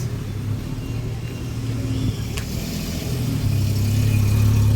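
A car passes along a roadside beside a street-food stall under a cloudy sky, its mid-pitched engine swelling louder and closer toward the end over a steady outdoor rumble.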